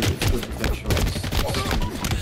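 Pistol gunfire in Halo Infinite, a quick string of close, sharp shots packed together over busy game noise.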